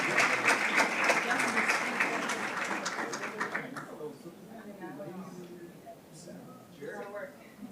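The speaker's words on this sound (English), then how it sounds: "Let's give a round of applause to the Foster swim team" A school board meeting audience applauds the Foster swim team with a burst of steady clapping that fades after about four seconds, followed by someone speaking.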